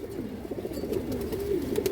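A female Giribaz Maxi pigeon coos softly and steadily in a short, continuous murmur against faint background noise.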